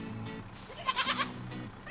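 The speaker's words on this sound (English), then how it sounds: "Moving on to the next animal, the goat." A goat bleats in a wavering cry at mid-distance over a steady background hum, the call swelling to a peak in the middle and trailing off.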